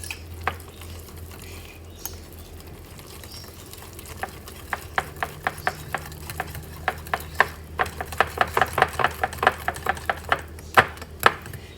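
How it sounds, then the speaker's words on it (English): Egg being whisked into water-based pancake batter without milk, a run of quick rhythmic taps of the whisk against a bowl that grows faster and louder toward the end, close by with no talking. "Add in your egg. And you're going to whisk that all together."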